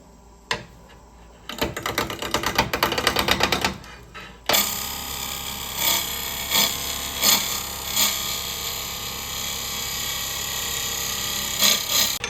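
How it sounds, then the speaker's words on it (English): Wood lathe at about 500 RPM roughing out a peppermill blank, a burst of rapid clattering chatter followed by a steady spinning hum with regular rhythmic cutting thumps, close and continuous. "we're just going to start roughing this out. Starting at about 500 RPM."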